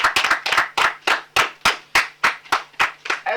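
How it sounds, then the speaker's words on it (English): Small group claps for the winner of a Nigerian children's TV program, about a dozen distinct, evenly spaced hand claps ringing out close and clear with no talking. "round of applause for our winner for today"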